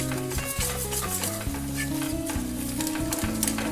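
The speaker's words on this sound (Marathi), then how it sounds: "थोडे चांगले तेलात परतून घ्यायचे आहेत आपल्याला" Pav bhaji masala with garam masala sizzling in hot oil as it is stirred and sautéed, a steady close frying hiss with spoon scrapes, alone and continuous with background music.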